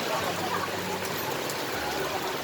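Heavy rain pours steadily as a dense, even hiss close by, with no talk over it.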